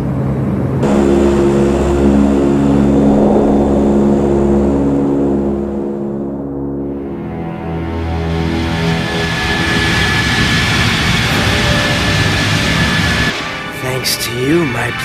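Steady loud airplane engine drone in the Resident Evil Darkside Chronicles video game, with harmonic propeller hum and a rising pitch shift, continuing throughout alongside voices and game sounds.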